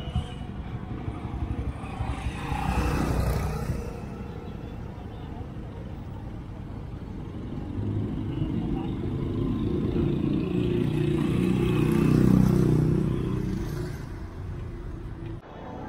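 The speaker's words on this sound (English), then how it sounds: "Yeah, it's heavy traffic." Heavy school-day traffic with cars and a bus rumbles and swells continuously, engines growling louder toward the end, while a voice talks over it.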